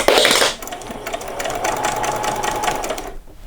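A sewing machine back stitches and then runs steadily along a doll saree's fabric at a quarter-inch seam, a loud continuous whir after a brief louder start, with no voices.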